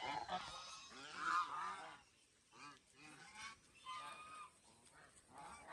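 Geese honk loudly and repeatedly beside a deer enclosure on a farm, with bursts of overlapping calls followed by shorter, spaced honks.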